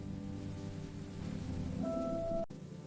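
Rain during a family car ride, heard as a steady, faint hiss of drops on the car, with a brief tonal whine near the end before the sound cuts off sharply.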